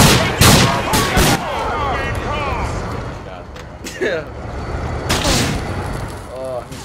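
Gunfire bursts and booming blasts from Grand Theft Auto IV, loud and repeated through the clip, with sirens and crashes mixed in and voices talking over the shooting.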